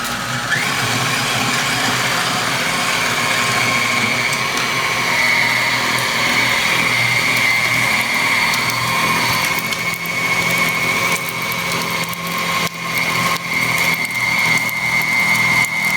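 Beef going through an electric meat grinder: a loud, continuous motor whine with a steady tonal hum and grinding rumble, unbroken for the whole stretch and close by, with no voices.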